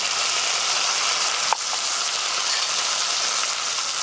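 Steady, loud sizzling of ground spice paste and chopped tomato frying in hot oil in a pan, a dense crackling hiss with one brief clink partway through.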